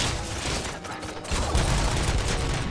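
Single-fire shots from the JAOG gun in RoboCop: Rogue City ring out as a dense, loud volley of repeated blasts that runs nearly unbroken, with a brief lull near the middle before the firing resumes heavier.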